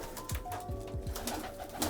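Pigeons kept by a hobbyist coo softly in a few low, rolling calls, with some faint background noise and no talking over them.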